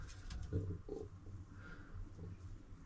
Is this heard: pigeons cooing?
yes